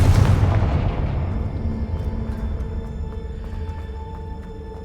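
A deep booming blast from the Confringo fire spell in the Hogwarts Legacy video game hits hard at the start, then rumbles and decays over several seconds into a lingering low roar with faint ringing tones.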